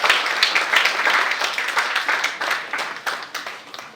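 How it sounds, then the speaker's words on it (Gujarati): An audience welcoming a guest at a school visit breaks into applause, a full crowd of clapping hands that starts loud and gradually thins out. "આપણે સૌ તાળીઓથી આ અભિવાદનને"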